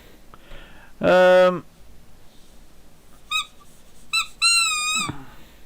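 A squeaky ball toy squeaked in a few bursts, one long loud squeeze followed by short squeaks and a longer wavering one, close and clear with quiet pauses between.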